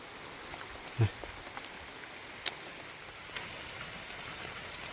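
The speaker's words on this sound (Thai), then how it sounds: "ฝนตลอดเนาะ" Steady rain patters across a surface, a continuous wash of drops with a few sharper knocks and taps standing out briefly.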